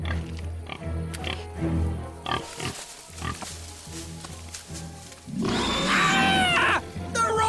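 Cartoon wild pig grunting and snorting, a few rough low grunts early, then a loud, squealing burst of oinks near the end, close and alone without talk.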